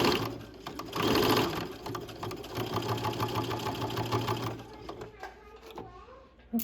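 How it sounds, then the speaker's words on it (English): Sewing machine running a fast, steady stitch along a waistband seam, close and mechanical, slowing and stopping near the end. "now just follow along that seam and keep your stitch right in the seam line."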